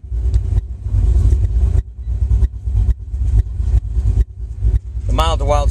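A modified 2009 Corvette Z06 with upgraded heads and cam runs its engine in rhythmic pulses of loud low rumble broken by brief gaps, ending in a higher rising note as a voice speaks over the final second.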